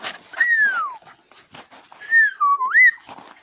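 A person whistles to a dog in two rising and falling calls, the first sliding down, the second wavering, close and clear, with scuffling and small movement noises between them.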